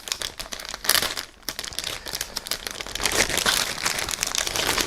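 Thin plastic of a resealable bag crinkles and rustles close up in steady bursts, with a brief pause before the handling starts again, louder toward the end.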